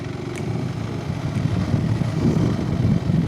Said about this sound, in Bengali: এইসব রাস্তা এরকম বাইক চালিয়ে মজা আলাদা